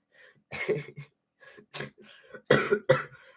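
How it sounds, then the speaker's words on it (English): A man coughs in a short series of harsh bursts with brief gaps between them, close to the microphone and fairly loud, set against near silence. "First time I've coughed all stream."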